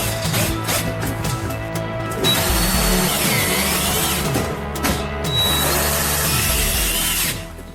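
Power drill driving self-tapping screws into a small scrap-built kids' motorized train, a loud whirring grind that rises and falls over two long runs, close by, with no talking.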